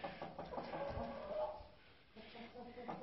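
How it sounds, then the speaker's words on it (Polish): Ornamental hens cluck softly in a loose, irregular stream close by, with a murmur of farmyard noise underneath and a brief lull partway through. "Dzisiaj jesteśmy tutaj u moich kurek ozdobnych."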